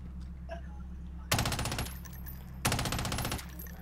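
Machine gun fire in Call of Duty: Warzone, two loud, dense bursts of rapid automatic shots, each lasting about a second, close up over a low steady game hum.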